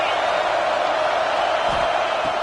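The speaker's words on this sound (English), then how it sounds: "This crowd rising up," A football stadium crowd rises into a loud, continuous roar that stays steady and dense throughout, with no break in the noise.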